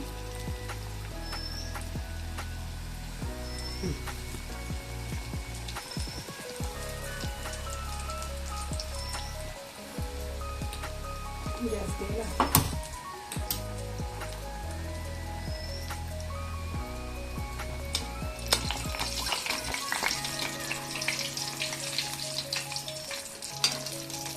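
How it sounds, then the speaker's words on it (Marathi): Bombil (Bombay duck) vadas dropped into plenty of hot oil, a continuous loud, crackling sizzle that swells and churns close up for the whole stretch, with no one speaking. "आता मला तेल पण भरपूर गरम झालंय आहे आता हे वडे सोडून घेऊया"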